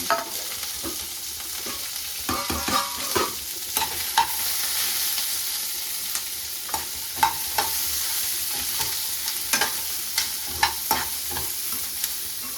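Food frying and being stirred in a pan until toasted in a home kitchen, with a steady low sizzle broken by repeated scraping and clinking strokes of the spoon, close and fairly quiet, no talking.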